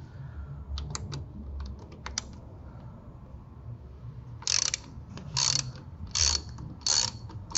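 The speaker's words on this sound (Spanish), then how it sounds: "vamos a tener que aflojar esa tuerca con nuestra matraca y dado de 10 milímetros" Ratchet fitted with a 10 mm socket loosens a car battery terminal nut on a Suzuki Vitara Boosterjet: a few light clicks early on, then rhythmic bursts of close, crisp ratcheting.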